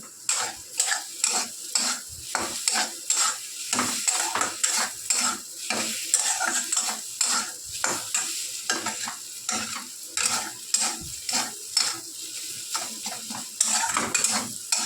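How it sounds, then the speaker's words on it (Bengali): Turmeric, salt and spices fry and get stirred in a pan: steady close sizzling broken by frequent scraping and clinking of a spoon against the metal, with no talk. "এটা আমরা খুব ভালো সুন্দর করে ভাজা ভাজা করে নিচ্ছি"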